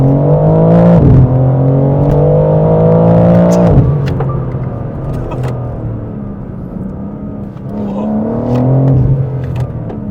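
Turbocharged engine of a 2025 BMW M4 CS pulling hard from inside the cabin, a steady droning rise in pitch that dips at each gear change and climbs again, loud and continuous, with no talking.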